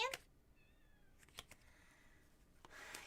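A cat gives a short meow at the start, followed by quiet rustles and clicks; a faint chirpy mew comes partway through in an otherwise quiet room.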